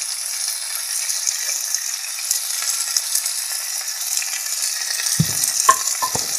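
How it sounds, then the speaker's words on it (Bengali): Masala for a Bengali-style rohu fish curry fries and is stirred in a pan with salt, giving a steady, close sizzle that runs throughout, followed by a few sharp spoon clinks near the end. "এবার এটাকে ভালোভাবে নাড়াচাড়া করতে হবে।"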